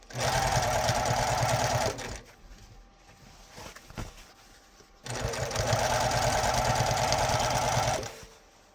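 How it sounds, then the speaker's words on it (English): A sewing machine hemming jeans runs in two steady, loud bursts of rapid needle chatter, each lasting about two to three seconds, separated by a quieter pause with faint handling noises. "my sewing machine is beautiful and works according to how I wish"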